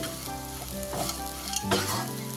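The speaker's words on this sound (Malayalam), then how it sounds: "ഞാനിവിടെ ജസ്റ്റ് ഇപ്പോൾ ഉള്ളിയും പച്ചമുളകും നോർമൽ രീതിയിൽ ഉണ്ടാക്കുന്നതേ ഉള്ളൂ" Onions and green chilies frying in a pan give a loud, continuous sizzle with stirring scrapes over a low steady hum, with no speech.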